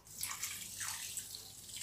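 Lukewarm water poured over bulgur for a simple couscous, a steady close hiss of flowing liquid lasting the whole moment, with no talk.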